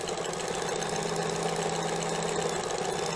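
A sewing machine fitted with a side cutter attachment stitches a zigzag seam while trimming the fabric edge, giving a steady, close mechanical whir that runs without a break.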